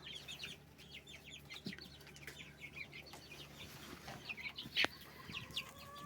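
Lots of small chicks cheeping rapidly and continuously, high-pitched overlapping peeps close by, with one louder chirp standing out partway through.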